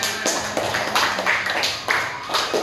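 A school class claps hands during a lesson, a loose burst of repeated claps with uneven rhythm, close and moderately loud.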